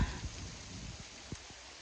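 Rain falls steadily in a soft, even hiss, with a few faint knocks and taps scattered through it.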